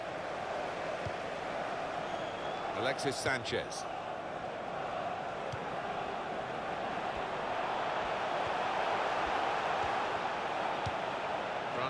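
Stadium crowd in the FIFA 16 football video game cheering as a steady, wide roar of noise throughout, with a commentator talking over it.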